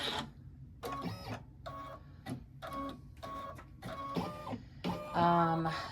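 An embroidery machine stitches a design in the hoop for a sweet treat bag. It sounds as close, rapid mechanical bursts of stitching broken by short pauses, with the run getting louder near the end.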